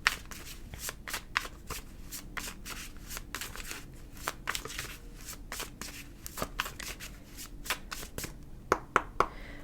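Tarot cards are shuffled by hand at close range in a steady run of quick papery riffles and taps, with a few sharper snaps near the end. No one speaks.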